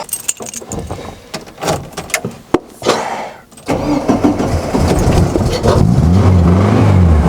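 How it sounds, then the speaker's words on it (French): Keys jangle and rattle close by, then a starter cranks briefly and a Volkswagen air-cooled engine with newly installed ignition catches and settles into a steady, loud idle. "Et ça démarre! Et voilà, ça démarre parfaitement."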